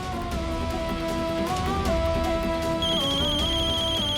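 A mobile phone ringtone plays loud and steady, a melodic electronic tune with shifting notes repeating throughout, heard alone with no voices.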